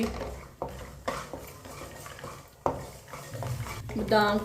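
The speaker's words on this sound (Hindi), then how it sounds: "इसे भी ऐसे ही चम्मच चलाते हुए भुने।" Almonds dry-roasting in a pan on a low flame, stirred with a spoon: repeated scraping and clinking strokes, close and moderately loud, with faint dry crackle and a brief voice-like sound near the end.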